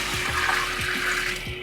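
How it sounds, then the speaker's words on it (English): Clam broth poured from a container into a cooking pot, a steady close splashing gush of liquid lasting under two seconds, with faint knocks underneath. "going to add the clam broth"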